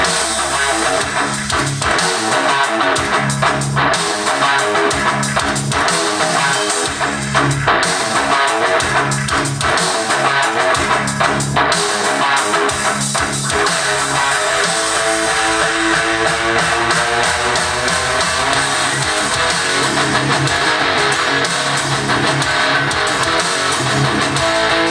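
Full band song with live drums and a strange guitar riff, playing loud and continuous with steady rhythmic hits throughout.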